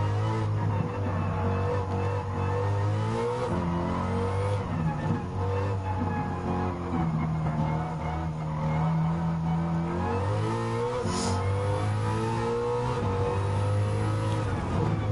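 Engine of a pickup truck racing in Gran Turismo 7, a steady loud drone with rising and falling revs as gears shift, continuous and close throughout.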